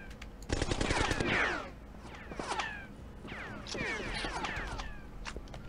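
Enemy gunfire in the video game An Elder Scrolls Legend: Battlespire, with bursts of rapid shots and sharp ricochet-like whines repeating across the clip, loud and close, and no speech over it.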